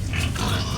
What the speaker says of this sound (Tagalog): si Bernadette, ang alagang baboy natin na nagpapadidi.